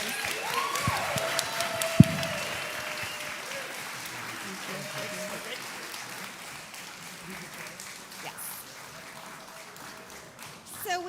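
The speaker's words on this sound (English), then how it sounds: "Please give them a round of applause." Audience applause at a panel session of a food summit at SXSW 2024: a steady, moderately loud wash of clapping from a seated crowd, with a sharp single knock near the start, continuing to the end.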